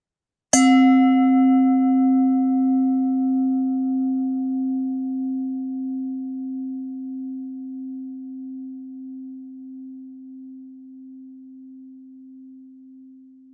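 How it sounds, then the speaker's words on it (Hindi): A meditation bell struck once rings out with a pure, steady tone that slowly fades over many seconds into silence, alone and fairly close. "मैं इस बेल साउंड को 5 मिनट के लिए चलाऊंगा।"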